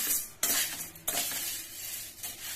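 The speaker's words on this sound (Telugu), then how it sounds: "మినప జంతికలు తయారు చేయడానికి నేను పప్పును వేయించుకుంటున్నాను" Urad dal dry-roasting in a pan over medium heat is stirred, with a soft rattling hiss and a few distinct scraping strokes of the spoon against the pan.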